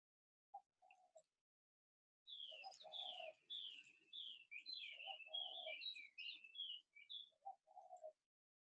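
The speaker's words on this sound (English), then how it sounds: "Good to see your beautiful face and hear those birds." Birds sing outdoors, quiet and a little distant: a run of bright chirps and warbles framed by a few softer, lower cooing notes.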